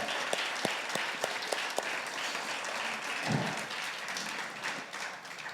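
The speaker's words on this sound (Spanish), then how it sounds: "un aplauso al Señor." A church congregation at a Spanish-language service breaks into steady, full applause, with a few sharper claps standing out near the start before the sound settles into a dense, continuous patter.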